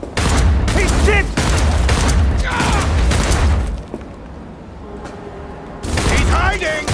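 Rapid gunfire from a firefight in Cyberpunk 2077, loud repeated bursts that pause for a moment and then resume, layered with shouted voice lines from combatants.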